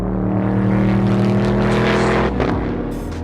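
A Palatov Motorsport car engine roars loud and close in a continuous, throaty drone that eases slightly toward the end.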